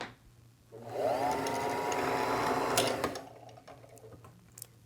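Singer Fashion Mate 362 sewing machine running in a steady burst of stitching for about two seconds, motor whir and needle clatter fairly close and clear, then stopping, with quiet handling sounds after.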